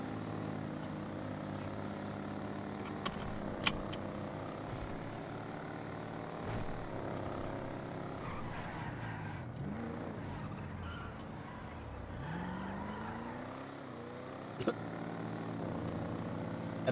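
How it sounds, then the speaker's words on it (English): Propeller airplane engine in a race game, a steady droning hum with pitch sweeps as the plane passes, running under excited talk throughout. "That plane better move it."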